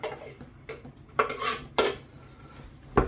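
Ingredients drop into a pan for a beef steak and mushroom pie, producing a few sharp metallic clatters and clinks of utensils against cookware, spaced irregularly with quiet between them.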